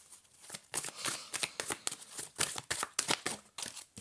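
Tarot cards riffled and shuffled in quick flurries of papery flicks and slaps, a few dropping out of the deck, close and crisp.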